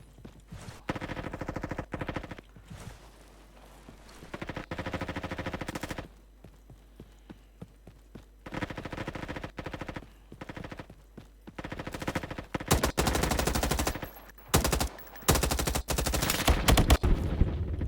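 Rapid bursts of automatic gunfire ring out while slide-shooting in the Roblox first-person shooter Frontlines, loud repeated volleys separated by short pauses, with no talk over them.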